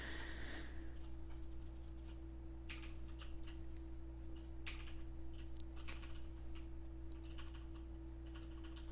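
Keys clatter on a computer keyboard in irregular clusters of taps, faint and close against a steady electrical hum.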